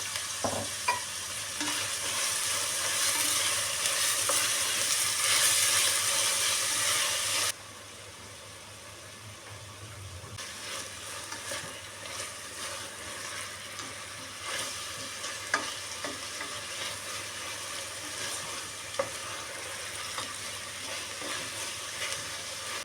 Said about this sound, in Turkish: kabağımızı Böyle hafif kavurduk